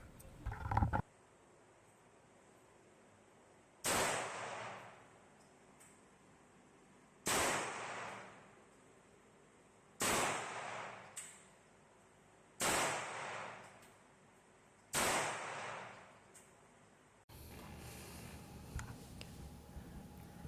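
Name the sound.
shooting a Norinco NP34 pistol at 15 meters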